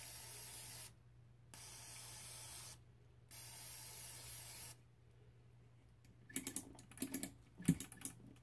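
A spray can set to low hisses in three long, steady bursts during work on an antique Stewart-Warner 1262 tube radio chassis, followed by faint clicks and handling noises.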